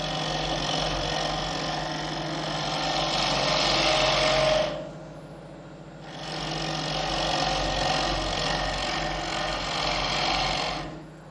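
A bowl gouge cuts wood on a wood lathe with a continuous close whirring hiss and hum, which breaks off briefly halfway through when the tool lifts, then resumes just as loud; no talking.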